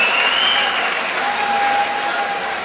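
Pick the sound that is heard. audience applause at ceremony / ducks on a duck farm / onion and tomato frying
audience applause at ceremony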